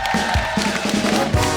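A studio audience at a Kapil Sharma comedy show cheers and claps in a loud, close burst of crowd noise with whoops.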